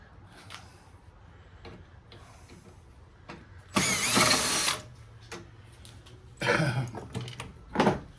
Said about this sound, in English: Just going to unscrew this other rod.